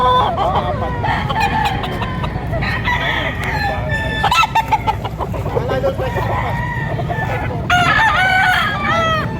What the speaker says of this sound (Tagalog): Ayan, pero magandang mga manok ito.